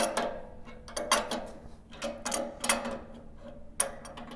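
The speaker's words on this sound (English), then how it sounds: "let's go ahead and remove the bolts that are holding this carriage in place on the frame" Bolts holding a saw carriage to its frame being loosened, heard as a string of sharp metallic clicks and ratcheting taps in uneven bursts, close by and fairly quiet.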